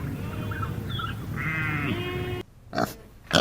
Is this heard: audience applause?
no